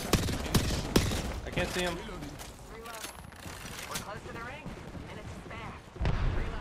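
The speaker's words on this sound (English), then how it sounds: "They're shooting like right here." Gunfire in Apex Legends, bursts of rapid shots and sharp cracks, some close and some distant, mixed under a player's talk over game audio.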